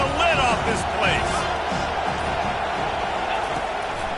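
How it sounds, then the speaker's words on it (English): A stadium crowd at a football game roars steadily on third down, a broad, sustained wash of noise, while a commentator talks over it. "Third down, and this crowd is tearing the lid off this place."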